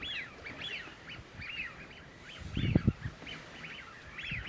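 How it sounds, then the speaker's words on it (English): Flock of wigeon ducks on a UK nature reserve giving repeated whistling calls, a busy chorus of overlapping whistles at a moderate distance, with a brief louder low rustle or honk midway. "most of the ducks are actually widgeon. They have an amazing whistle."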